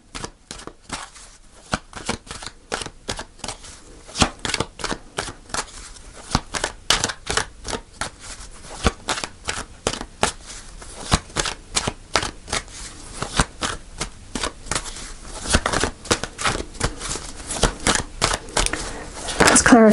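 Tarot cards shuffled by hand in a steady run of quick, crisp riffling snaps, near and fairly loud, continuing for the whole stretch with no talking.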